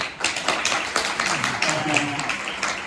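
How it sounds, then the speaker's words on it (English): An audience claps for the writer Robert Lashley at a literary reading, a steady patter of many hands with a voice talking over the applause. "please give a round of applause and to the writer"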